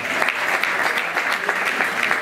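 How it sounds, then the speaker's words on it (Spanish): A crowd at a lunch and members' assembly of a historic vehicle club on the Costa del Sol claps steadily for a fellow member, a dense, even burst of applause with sharper individual claps throughout. "Un aplauso para nuestro amigo Rafael"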